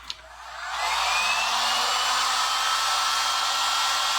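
Hair dryer blowing over wet chalk paint, switching on with a brief click and rising into a loud, steady whooshing roar with a faint tonal whine, close and continuous.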